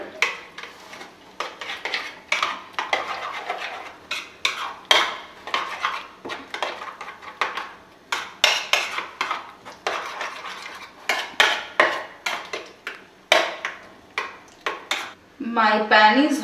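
Utensil clinks and scrapes against a bowl in a steady, busy rhythm as egg omelette batter is mixed with grated cheese, close and fairly loud, with a brief different scrape near the end.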